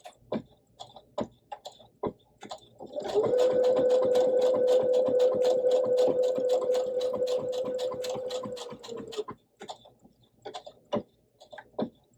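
A sewing machine stitches a buttonhole-stitch appliqué on a star quilt block, a rapid steady motor whir with rhythmic needle ticking for several seconds, framed by slower separate clicks of single stitches before and after.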